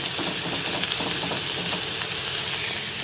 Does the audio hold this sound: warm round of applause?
no